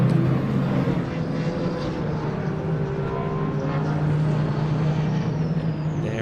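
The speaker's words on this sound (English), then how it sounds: "There is the MacG Racing Ginetta then powering onto the straight." A MacG Racing Ginetta race car at Donington GP powers onto the straight during a British Endurance Championship race, its engine a steady, loud drone under continuous commentary-style talk.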